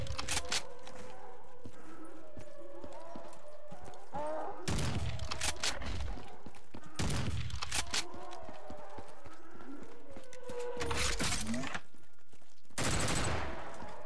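Shotgun fire in Black Ops 3 custom zombies on the Jurassic Escape map: about four loud, booming blasts spaced a few seconds apart, each with a short decay, over busy in-game ambience of clattering, clopping footsteps and background creature noises.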